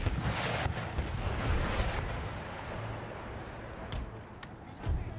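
Mortar fire in the strategy game Empire Total War, with heavy booming blasts early on, then scattered sharper cracks and thuds under a rumbling battle background.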